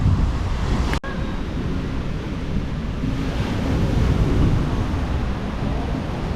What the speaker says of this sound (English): Water just comes in that little inlet. You still get waves.